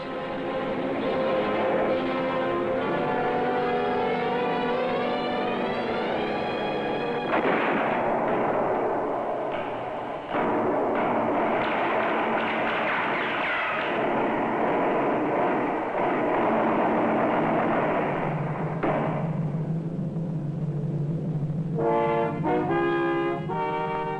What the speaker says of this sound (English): But then came the Soviet tanks.